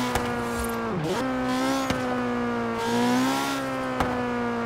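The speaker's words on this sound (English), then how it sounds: "This car makes probably one of the best turbo flutters I've ever heard in my life." A race car engine in Forza Horizon 3 hums steadily with pitch dips and rises as it shifts, punctuated by a few sharp clicks of turbo flutter; no one speaks.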